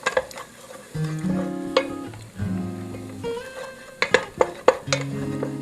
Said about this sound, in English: With a split pea soup, you saute them until they're slightly brown